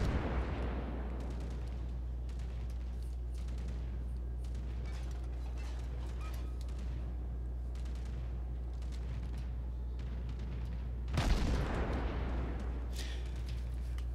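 Naval gunfire in a warship game involving the cruiser Konigsberg: distant heavy booms over a constant low engine rumble, with a louder blast near the end.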